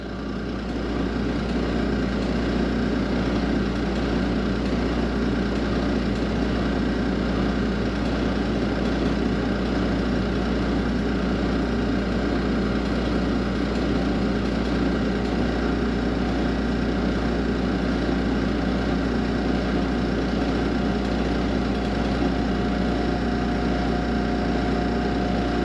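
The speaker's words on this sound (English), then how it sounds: "the little air assist pump is hammered" A worn air assist pump on an ice machine runs continuously, a steady droning motor hum with a rough buzzing rattle layered on top, unchanging and close for the whole stretch.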